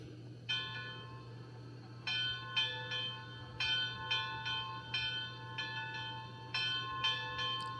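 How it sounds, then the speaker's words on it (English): A Rapido USATC S160 model steam locomotive's sound-system bell rings repeatedly in an even, steady rhythm, each clear metallic strike decaying over a constant low background hum. "I very much like that bell sound."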